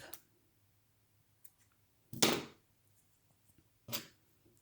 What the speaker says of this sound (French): Je prends mon ciseau et je coupe.